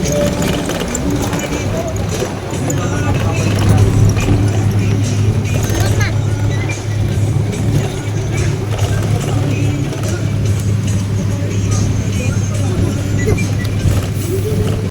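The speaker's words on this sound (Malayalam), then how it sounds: "ഇനി പാണ്ടിക്കാട് ബസ്." A Pandikkad-bound bus carries passengers with a constant low engine drone and road rumble, plus light rattles and bumps, while voices talk over the ride.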